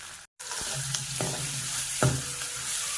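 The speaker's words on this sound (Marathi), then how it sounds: "कांदा चांगला लाल होईपर्यंत आता भाजायचा" Onions with a pinch of salt sizzle steadily in a hot pan while being fried until red-brown, with a few stirring scrapes cutting through the close, continuous crackle.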